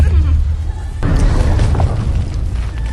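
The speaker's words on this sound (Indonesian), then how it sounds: "serangan gelombang ketiga kemudian datang dan kembali membuat lorong tempat mereka berada terguncang" Deep booming explosions from a bombing raid on the Oscarsborg fortress, heard as a heavy rumble that shakes a tunnel, loud and sustained with a sudden surge partway through.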